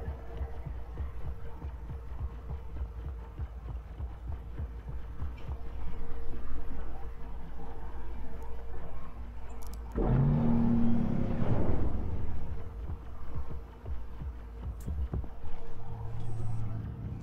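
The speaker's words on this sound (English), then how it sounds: "Always have to remember it's got uh, VTOL engines, so we gotta make sure we turn them when we get off the pad." Star Citizen spacecraft VTOL engines spooling up for takeoff from a landing pad: a steady low hum that swells with a rising roar midway and throbs, continuous and close.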